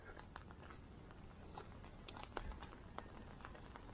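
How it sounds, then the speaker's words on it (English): Rain from a super typhoon patters on an umbrella, making faint, scattered ticks over a quiet, steady hiss of falling rain. "Can you hear those raindrops on my umbrella?"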